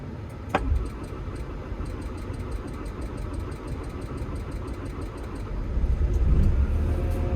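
An old engine on a Solar machine, just after fuel leak and blockage repairs, fires up and settles into a steady, loud idle with a rhythmic rumble. A faint ticking runs through it, and the engine swells slightly near the end.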